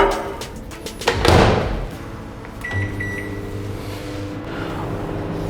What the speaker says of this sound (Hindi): इसी में कोका बटर डाल देंगे और इसको माइक्रोवेव में हम गर्म कर लेंगे